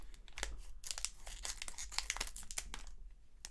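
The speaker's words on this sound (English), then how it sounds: "Masquerade card pack of 10 additional game cards. So I will now cut this open." Close, crisp crinkling and tearing of a Pokémon TCG Twilight Masquerade booster pack wrapper being cut open, with a run of sharp crackles and rips and no talking.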